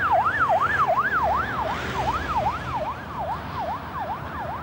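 An ambulance siren wails in a fast, repeating rise-and-fall pattern over the hum of motorway traffic, fading slightly toward the end.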